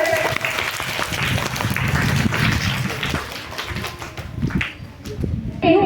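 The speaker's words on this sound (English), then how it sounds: "Clap for yourself." A group of children clapping, a lively patter of hands that thins out, then picks up briefly again near the end.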